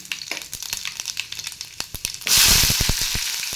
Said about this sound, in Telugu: ఆయిల్ వేసుకొని తాలింపు దినుసులు వేసుకొని దానిలో కరివేపాకు కూడా వేసేసి